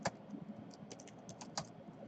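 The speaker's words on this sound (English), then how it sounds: "You can also do that by typing stimulus" Fast, uneven keystrokes on a computer keyboard, close and clear, with a few sharper clacks standing out from the steady tapping and no voices.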